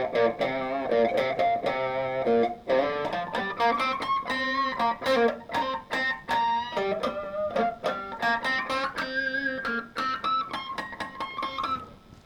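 Electric guitar harmonics ring out as bell-like plucked notes through an overdrive pedal, each one sustaining with mild grit and following in a quick, uneven sequence, loud and close with no talking.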